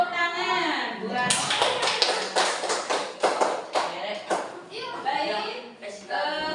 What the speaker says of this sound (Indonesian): Udah cukup, tepuk tangan buat